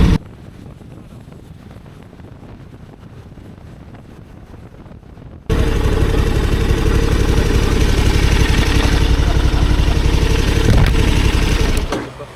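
An old big trail motorcycle with 50,000 km, its engine idling quietly at first and then rising sharply into a loud, steady running drone mixed with heavy wind rush at speed.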